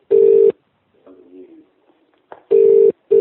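A telephone line rings in short, loud, steady tone bursts, with a pause and a few faint muffled sounds between rings, then two more rings close together.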